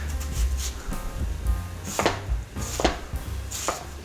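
A knife chops onions on a cutting board for shrimp etouffee, with about a dozen sharp, uneven thuds close by and no voices.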